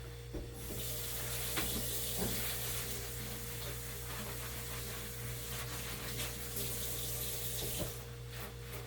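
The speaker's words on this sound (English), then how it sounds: "Then I'm going to wash my utility gloves." Utility gloves are washed under a running tap in a sterile compounding setting, a steady rushing stream of water with a low constant hum and a few faint knocks and splashes.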